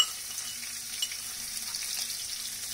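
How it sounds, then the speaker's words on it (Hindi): Crushed garlic and green chilies sizzle steadily in hot oil in a pan, a continuous close frying hiss with a few brief stir sounds, alone, no talking. "इसमें मैं डाल रही हूँ लहसुन और हरी मिर्ची कुटी हुई।"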